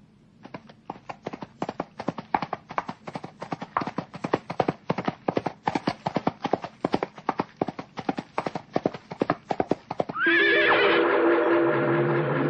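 A horse's hooves clip-clop in a fast, steady galloping rhythm, close and clear, then a loud drawn-out neigh rings out near the end; no voices are heard.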